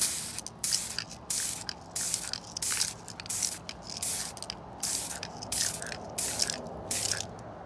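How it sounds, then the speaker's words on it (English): Duracoat spray paint is applied to an AR15 upper receiver in quick passes, heard as about a dozen short, sharp hissing bursts in an uneven rhythm, close and fairly quiet. "you just do quick passes with your paint"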